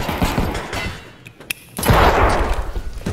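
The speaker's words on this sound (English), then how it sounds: "I think I had 3 grenades miss" Grenade blasts in a first-person shooter on a factory map: loud, close booming bursts with rumbling noise, a brief lull with a sharp crack, then another heavy explosion that rolls on.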